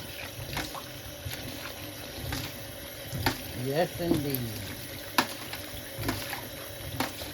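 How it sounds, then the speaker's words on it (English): Tap water trickles and splashes while mushrooms are rinsed by hand for pressure canning, close by with irregular clicks and knocks, and a person speaks briefly over the running water. "I'm going to wash them like this until the water goes clear."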